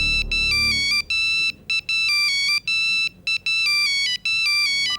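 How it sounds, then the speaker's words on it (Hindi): A bright electronic ringtone plays a repeating melodic pattern of short high tones with brief gaps, loud and close, with no talking. "सर, शिफाली का फोन है"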